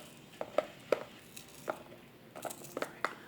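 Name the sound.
chopping an onion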